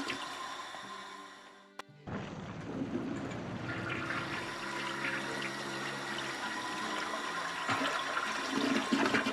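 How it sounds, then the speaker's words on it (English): A toilet flushes in the Nancy Drew game Danger by Design: after a few quiet clicks, a loud rushing gush of water starts and keeps running with gurgling refill sounds until the end, with no speech. "I'm flushing the toilet to try to find out what happens."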